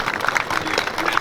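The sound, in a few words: applause at press conference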